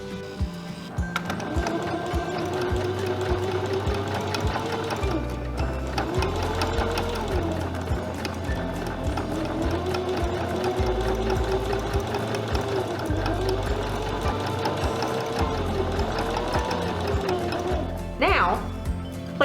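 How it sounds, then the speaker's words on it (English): A home sewing machine stitches the folded border of a quilted potholder with a steady, close mechanical whir and rapid needle chatter, running in several bursts with brief pauses, and a short clunk near the end. "And go ahead and sew it down."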